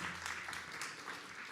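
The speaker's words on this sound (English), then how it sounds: "Let's give them a round of applause" An audience claps together in a steady patter of many hands, faint and somewhat distant, with no talk over it.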